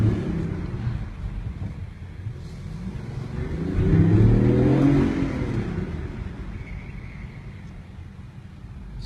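A BMW i8 accelerates, its engine note swelling and rising in pitch for a few seconds before easing off, heard from inside with wind noise around it.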